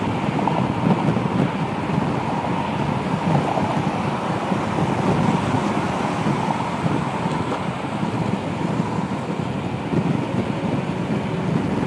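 Steady, loud wind rush buffeting the microphone while riding a Yamaha Nmax 155 scooter with a touring windscreen at speed on a highway, a continuous broadband roar with no speech.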